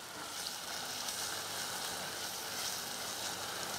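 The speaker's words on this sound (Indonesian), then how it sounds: "Nah, kita aduk lagi." A potato and mushroom bitterballen mixture is stirred in a hot pan, giving a dense, steady sizzling hiss that stays even and close throughout.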